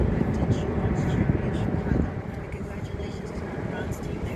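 An Airbus airliner taking off, its broad jet roar rumbling steadily at a distance and easing slightly partway through, with wind and outdoor noise around it.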